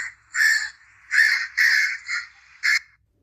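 Crow cawing in a children's storybook, five loud, close, harsh caws in an uneven rhythm with short gaps between them, heard alone with no talk.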